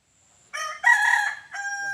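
A rooster crows once, a loud close cock-a-doodle-doo with a rising start and a long held final note, heard alone with no talk.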